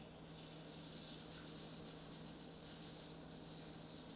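Waffle batter sizzling steadily in a hot waffle iron, a continuous close hiss with no break.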